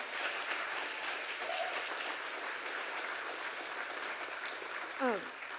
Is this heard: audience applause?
yes